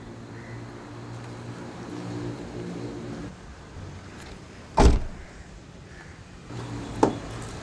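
Power windows on a seven-seat car whir with a steady electric motor hum, then stop, followed by two sharp thumps, close up.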